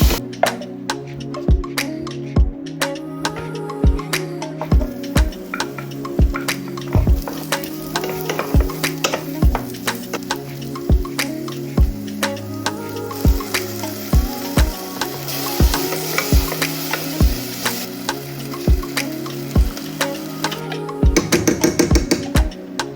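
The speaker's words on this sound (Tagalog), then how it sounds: "Gusto ko yung patatas, pinapan-fry ko muna." Potatoes pan-frying in hot oil, sizzling steadily at close range, punctuated by repeated sharp knocks and scrapes of a utensil against the pan in an uneven rhythm, with no talk.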